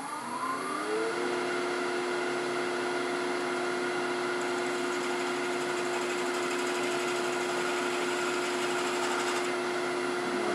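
A lathe cuts threads into a PVC urn insert, giving a steady, loud mechanical whine with a sustained tonal hum that holds evenly throughout with no talking.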